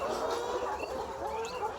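Caged layer hens clucking together in a poultry house, a dense, steady chorus of overlapping clucks and chatter from many birds, with no talk over it.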